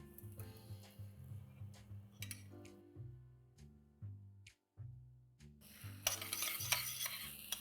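A spoon stirs tadka spices into dal in a pot, with soft scraping and light clinks over a low droning background and a brief burst of sizzling toward the end.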